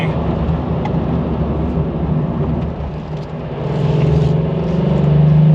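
A VW Up GTI with a small engine and about 200 Nm of torque, driven through a corner in third gear, gives a steady close interior engine rumble that rises and grows louder toward the end as it pulls.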